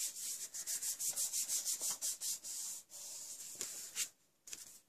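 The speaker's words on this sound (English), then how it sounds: "Just rub from the back because I don't want to put my hand in all that ink." A hand rubs the back of a sheet of stamped cardstock: quick, repeated dry rubbing strokes, close and quiet, with a few short pauses toward the end and no speech.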